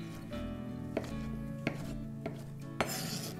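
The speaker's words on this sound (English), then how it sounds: "I'm gonna roughly chop them up like this." A knife roughly chops halved tomatoes on a cutting board for tomato rice soup, giving a few sharp, separate knocks at uneven intervals with a steady low kitchen hum beneath.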